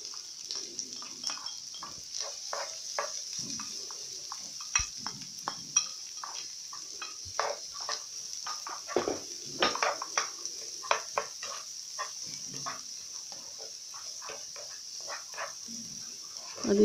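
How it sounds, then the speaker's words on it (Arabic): Sliced onion fries in melted butter in a pan, a soft continuous sizzle under frequent scrapes and clinks of a utensil stirring against the pan. "نضيف الزبدة، ندوب نضيف واحد البصلة مشلدة،"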